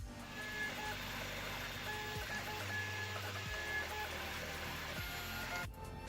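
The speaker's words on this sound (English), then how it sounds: "Now it's up to the printer to get the part done." A 3D printer prints a part for a toy car project, a steady whirring drone with stepper-motor tones that shift pitch as the head moves, continuous and moderately close with no talk.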